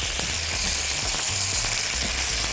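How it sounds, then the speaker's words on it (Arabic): Butter sizzles in a hot pan with a steady, even hiss, close and continuous, with a few faint low knocks underneath. "حط الزبده كده."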